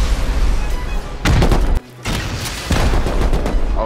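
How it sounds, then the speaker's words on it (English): A PvP rocket blast during a nighttime raid in the video game Rust, a loud booming burst followed by a brief gap and more rumbling explosive noise and gunfire-like crackle. "Oh, that was a PvP rocket."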